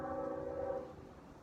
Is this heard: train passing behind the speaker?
yes